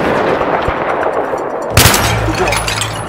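Gunfire in a Battlefield 3 firefight, low rumbling battle ambience broken by a sudden loud, sharp crack of shots close by, followed by sustained rolling reverberation and debris.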